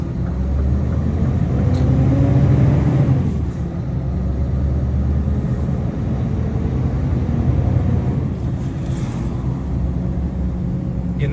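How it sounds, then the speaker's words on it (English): A Scania S770 truck engine drones steadily throughout, a deep rumbling hum with a low tone that rises and falls slightly, heard from inside the cab. "this 770 is completely different. You can actually hear the engine the whole way through."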